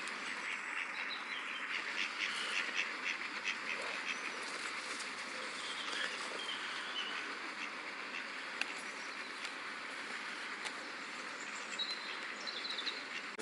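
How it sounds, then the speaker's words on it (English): Ducks quacking in a park in May, a steady scattered chorus of calls mixed with buzzing insects and other birds, continuous and moderately distant with no talking. "All the ducks are now coming."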